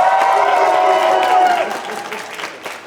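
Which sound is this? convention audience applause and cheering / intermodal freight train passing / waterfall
convention audience applause and cheering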